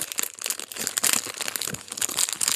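Crinkling and tearing of a Skull Panda blind box wrapper being opened, with steady close rustles and crunches throughout, no speech.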